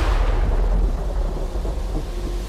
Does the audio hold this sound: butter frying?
no